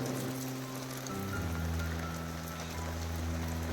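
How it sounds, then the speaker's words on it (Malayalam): Heavy rain falls in a steady, fairly soft wash of hiss, with a low droning hum running underneath and no voices. "അപ്പോഴത്തേക്ക് നല്ല മഴ കനത്തു കേട്ടോ"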